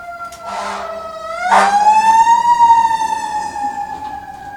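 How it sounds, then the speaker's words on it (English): Fire engine siren wails loud and close, with a long rising and falling electronic tone and a couple of short honking bursts near the start. "Fire engine."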